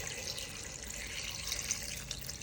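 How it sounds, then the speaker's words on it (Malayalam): Water pours into a cooking pot holding cassava with green chillies and salt, a continuous close splashing rush at moderate level without a break. "വെള്ളം ഒഴിച്ച് കൊടുക്കാം."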